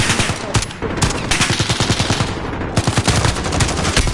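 Rapid automatic gunfire from the Call of Duty video game rattles in loud, dense bursts with only a brief break, close and alone.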